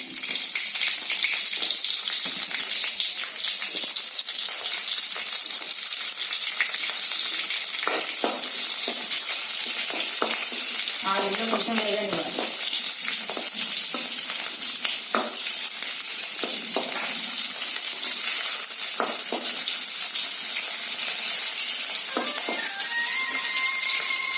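Green chillies fry in oil in a pan for a tomato roti chutney, giving a constant loud, close sizzle with scattered crackles and occasional utensil clinks.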